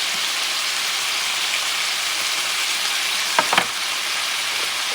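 Vegetables stir-frying in a hot pan with a steady, bright sizzle, interrupted near the end by a couple of brief scraping stir sounds.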